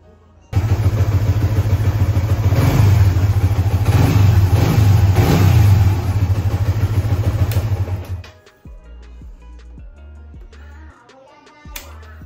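A Suzuki GSX-R150 with its stock exhaust pipe revs up close and loud, a steady high idle swelling through several throttle blips for about eight seconds before cutting out, leaving quiet clicks and rattles.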